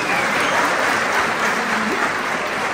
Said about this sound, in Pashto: باچه بچه دې ته هم چکچک وکړئ نو